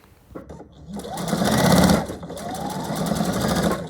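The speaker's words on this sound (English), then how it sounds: "So you're just continuing to sew one after the other" Sewing machine stitching scrap quilt patches one after another in chain piecing, motor whirring up into a fast steady run, easing briefly and then running on, close and fairly loud.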